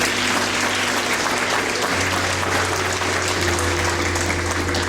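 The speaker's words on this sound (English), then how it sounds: "Please give them another round of applause." Loud, sustained applause from a large audience at a debutante ball fills the space, an even roar of clapping with a low hum underneath.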